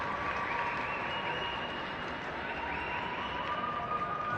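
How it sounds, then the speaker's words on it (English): Applause from spectators on the sidelines of a schools football match at a national final, a steady wash of clapping and crowd noise held throughout, with no clear talk over it. "Elise Bell, applause from the sidelines."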